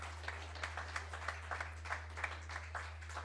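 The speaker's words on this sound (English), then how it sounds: "A big round of applause, please." Scattered audience clapping at a leadership forum on direct selling, with individual claps standing out in an uneven rhythm over a low steady hum, fairly faint and distant.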